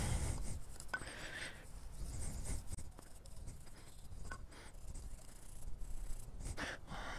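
Old toothbrush scrubbing a Yamaha V Star motorcycle's front brake parts with brake cleaner, a steady close scratchy rubbing with uneven strokes throughout, no talk.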